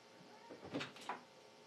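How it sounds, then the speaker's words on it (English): A door opening in the Resident Evil video game: a faint, brief wooden creak and clunk, with a couple of soft knocks over a low background hiss. "Fine, open up the door."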